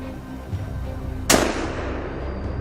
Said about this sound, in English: The gunshots rang out,